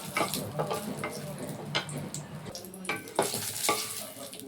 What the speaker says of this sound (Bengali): আগে আমি লঙ্কা কটা ভেজে নেব